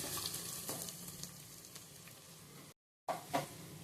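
Mutton paya curry with chili powder is stirred in a pot, producing a close sizzle and spoon scrapes that stop abruptly for a brief silence, then resume with a couple of louder stirs.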